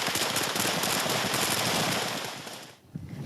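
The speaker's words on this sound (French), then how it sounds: "Les tirs sont nourris, les troupes au contact." Heavy, sustained gunfire in a village on the outskirts of Kyiv during a Ukrainian counter-attack, dense machine-gun bursts rattling continuously and loudly before easing off near the end.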